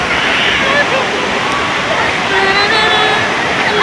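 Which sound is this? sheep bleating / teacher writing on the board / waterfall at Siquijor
waterfall at Siquijor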